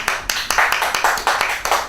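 Applause from a graduation ceremony audience, a steady rattle of many hands clapping close by with sharp irregular peaks, heard alone for a couple of seconds.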